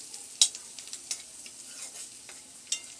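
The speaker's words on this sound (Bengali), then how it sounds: "তো পেঁয়াজ মরিচ কষাই নিলাম" Onions and chilies sautéing in a pan for a potato and bitter gourd fry, a soft steady sizzle with a few sharp clinks of a spatula stirring against the metal.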